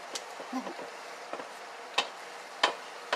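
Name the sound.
ground meat browning in a pan for sloppy joe casserole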